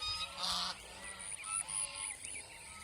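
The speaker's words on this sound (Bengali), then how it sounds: "এই যে বড় হাঁসটা দেখা যায়" A large domestic goose near the water by a paddy field lets out one loud, nasal honk, then a few softer honks in quick succession.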